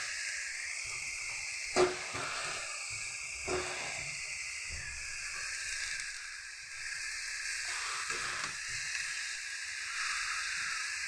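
Radish greens with potato and turmeric frying in a pan give off a steady, hissing sizzle throughout, fairly close, with a few soft knocks of a utensil and no speech.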